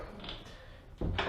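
A door shuts with a sudden close thud in a quiet room, one heavy impact followed by a brief resonant tail, alone with no talk.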